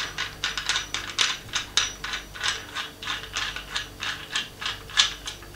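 A tripod's self-leveling bowl being unscrewed gives a close run of crisp ratcheting clicks in an uneven rhythm, with no talking.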